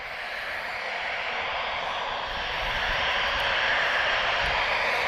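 A TAP Portugal airliner, leased from Bulgaria Air, takes off at Lisbon Airport, its broad engine roar heard from a distance and swelling steadily louder throughout.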